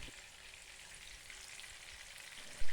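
Small fish pieces frying in hot oil over medium flame for fish biryani, a steady close sizzle with crackling throughout and a brief louder burst at the very end.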